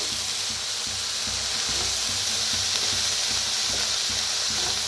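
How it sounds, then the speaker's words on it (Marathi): Carrots and mixed vegetables sizzle steadily in a hot pan for momo filling, a continuous close hiss of frying with faint stirring scrapes underneath and no voices. "गाजर बी आता मिक्स करून भाजूया"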